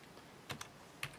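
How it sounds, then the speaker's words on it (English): A few sharp, isolated keystrokes on a computer keyboard as a date is entered into a Numbers '09 spreadsheet, heard close and fairly quiet against a faint room hush. "Now I'm going to simply type in a date here"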